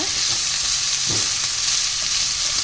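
Chopped soup vegetables sauté in a hot pan with a loud, steady, close sizzle and a brief stirring scrape, and no voices.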